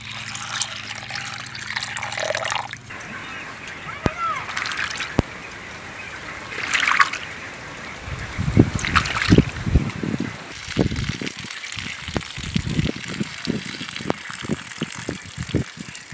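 Water poured over chana dal in a kitchen bowl to soak it: after a quieter stretch, splashing, trickling pours arrive in uneven bursts and continue closely to the end, with no voices.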